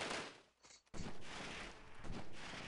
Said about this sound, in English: Just wish I knew where these guys were shooting from.